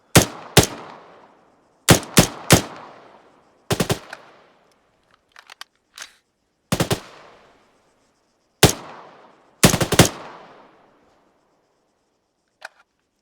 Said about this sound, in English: Armstrong, you take the 3rd lane. Peterson, the 1st one. Ready to fire?